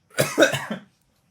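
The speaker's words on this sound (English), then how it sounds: "I'm going to cough if I keep talking" A short burst of three or four close, loud coughs in quick succession, then silence.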